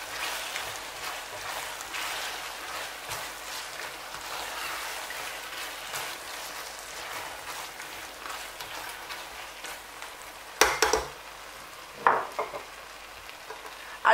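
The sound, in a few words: stirring onions into fried tomatoes for jollof rice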